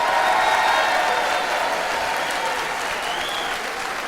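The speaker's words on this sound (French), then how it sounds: "Une ovation pour les porteurs !" A carnival crowd at an outdoor giants' procession bursts into a sustained ovation for the giant carriers, dense clapping and scattered cheers holding steady throughout at close range, with no break in the noise.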